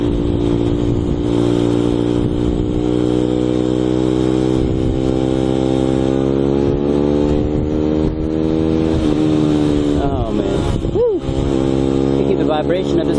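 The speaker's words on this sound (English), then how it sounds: "Vibration of this motorcycle, man." Motorcycle engine running steadily while riding alongside a busy highway with normal traffic, a continuous near drone with slight pitch swells and a brief dip near the end.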